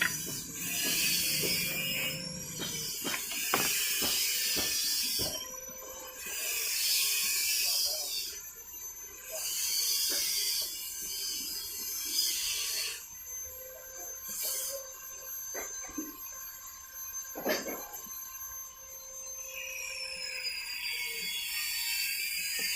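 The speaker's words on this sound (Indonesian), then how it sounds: "kita langsung menggunakan semprotan" A hand pump pressure sprayer with a 2-litre tank is worked over eggplant plants in a home garden, giving repeated hissing bursts of spray mixed with mechanical clicks and squeaks, fairly close and with no voices.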